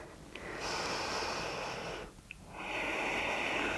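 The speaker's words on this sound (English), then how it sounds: "Let's take 3 breaths here." Deep, slow breathing during a yoga twist: a long, airy inhale, then a brief pause, then another long breath, close and fairly quiet.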